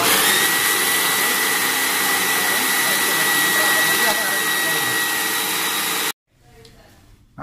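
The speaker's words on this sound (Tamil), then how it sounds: "நன்றாக அரைத்து கொண்டு எல்லாவற்றையும் அரைத்து இதுபோல் பேஸ்டாக எடுத்துக்கொள்ள வேண்டும்" Mixer grinder blending cooked cashews and tomatoes into a paste, a loud steady motor whine that runs without a break and then cuts off abruptly.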